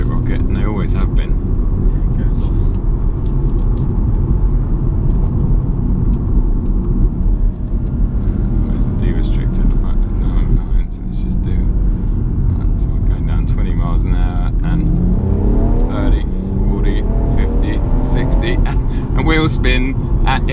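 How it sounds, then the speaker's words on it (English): BMW M140i engine and exhaust pulling hard with wheel spin in fourth gear at about 55 mph on a hot day, a loud continuous drone rising in pitch toward the end, with talk over it. "Wheel spin in fourth at around 55 miles an hour in very warm conditions"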